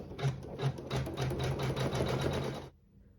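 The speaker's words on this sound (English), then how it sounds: "use that same neutral thread and sew the seam" A sewing machine stitches a seam through quilt fabric with neutral thread, a fast steady mechanical chatter close up for a few seconds before stopping abruptly.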